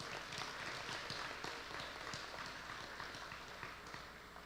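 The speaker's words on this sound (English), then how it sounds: "let's give her a round of applause" Faint, dense clapping from an audience at a senior awards presentation, a steady patter of many hands heard from a distance.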